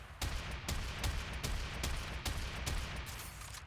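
Rapid shotgun blasts from the Hek in Warframe, about a dozen sharp loud reports fired in a steady rhythm roughly every half second, alone with no talk.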